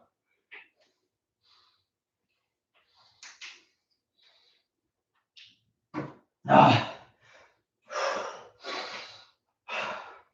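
Heavy, gasping breaths after a round of an upper-body home workout, sparse at first, then several loud, close exhalations and panting bursts in a row.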